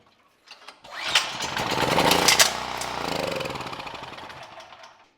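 A Champion generator engine with a carburetor fault fires up and runs on gasoline squirted into it. It roars loudly and steadily for several seconds, then begins to fade toward the end.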